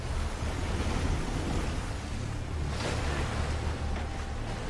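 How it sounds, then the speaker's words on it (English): White-water river rapids in a movie scene roar as a steady, loud, dense rush of churning water that continues without a break and carries no voices. "Never underestimate the power of white moving water."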